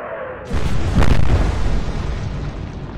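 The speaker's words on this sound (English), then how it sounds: "Wonder what that was that exploded that time." A ship explodes in the naval warfare game Atlantic Fleet, a loud, close blast that booms in sharply and rolls into a long, heavy rumbling decay.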